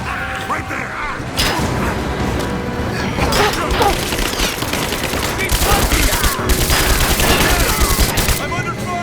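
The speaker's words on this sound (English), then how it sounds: "I'm under fire!" Rise of the Tomb Raider on PS5: sustained gunfire from several weapons in a close firefight, rapid overlapping shots and bursts, loud and continuous, with voices speaking in between.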